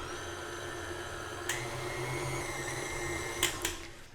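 An electric mixer running steadily while mixing brownie batter, a faint constant motor whine with a few brief clicks and knocks from the beaters against the bowl.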